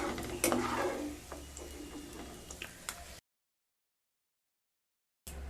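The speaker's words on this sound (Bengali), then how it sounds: "মিডিয়াম স্টিমে ড্রাই ফ্রুটসগুলো ভেজে নিয়ে তারপর ফিরে আসছি।" Dry fruits fry in ghee over medium heat while being stirred, giving a soft sizzle with light scraping and ticking of a utensil against the pan; the sound breaks off into silence for a couple of seconds, then resumes.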